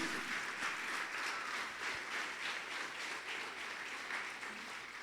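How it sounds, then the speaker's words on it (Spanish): A church congregation applauding, a sustained rush of many hands clapping in a large room, steady and fairly loud with a slight fade near the end. "Dale un aplauso a Jesús."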